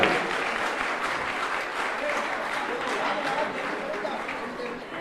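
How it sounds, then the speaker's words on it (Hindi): Loud, sustained applause from an audience at a Jain religious gathering fills the space, with dense steady clapping and a murmur of crowd voices mixed in throughout. "जोरदार तालियों के साथ अनुमोदना करिएगा"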